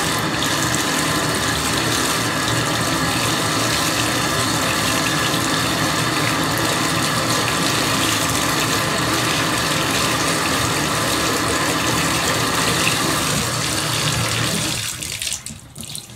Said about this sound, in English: So I soak it in hot water